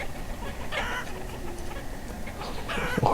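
Chickens clucking in the city-building video game Banished, a few soft clucks against a steady ambient game background, rising slightly at the end.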